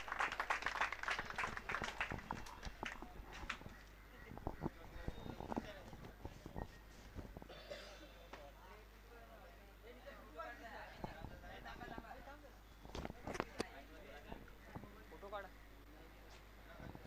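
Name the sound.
applause at a prize ceremony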